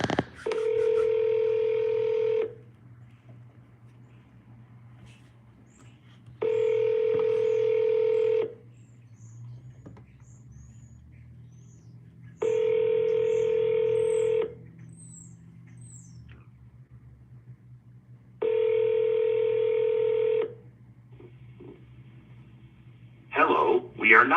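A landline telephone rings four times in steady, evenly spaced bursts while dialing a vacant land owner's number, loud and clear over a low hum, with a brief sound at the very end.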